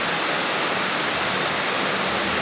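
Rain falls steadily in Sukabumi, a dense, even hiss of downpour close by with no voices.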